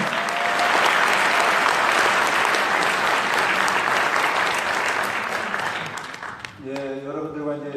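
Audience at a South Korean political event breaking into strong applause, loud continuous clapping with some crowd noise, fading near the end as a voice begins speaking.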